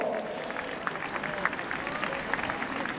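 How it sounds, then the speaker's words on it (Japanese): Crowd applause for the eight sprinters after the women's 100 m final at the 2023 Chiba Prefecture Championships, moderately distant and scattered, with a voice talking over it. "まずはこの8名に大きな拍手をどうぞ。"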